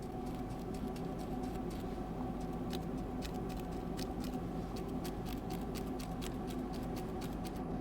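Faint rapid scratchy brushing on a Motorola Edge 40 Neo phone's microphone opening, swept back and forth repeatedly, a steady stream of soft ticks and rubs close up over low background hum.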